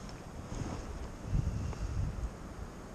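Wind gusts across a riverbank on the River Derwent while float fishing, a steady low rumbling buffet on the microphone that swells slightly midway, with no voices.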